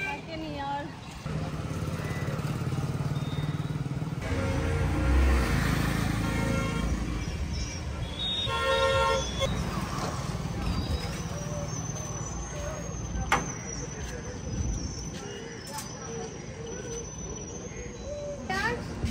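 A truck passes close by on a road with a horn honking briefly midway, over a steady rumble of traffic and engine noise, while people talk throughout.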